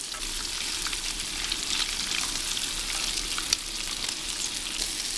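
A flattened burger patty sizzles on a Blackstone griddle with a loud, continuous, crackling hiss and scattered tiny pops, close by throughout.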